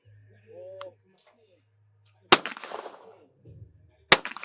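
Two loud, close Remington shotgun shots at a clay target shootoff, spaced about two seconds apart, each with a short echoing tail, after a brief murmur of voices and low outdoor rumble.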